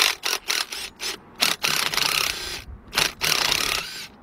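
A ratchet pawl driver clicks and whirs in short bursts while backing out 6mm hex caliper bolts on the front brakes of a 1997 Ford Expedition 4.6, close and rhythmic, with pauses between strokes.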